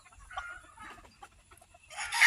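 Chickens being fed give soft scattered clucks close by, then a louder, rising burst of squawking at the end.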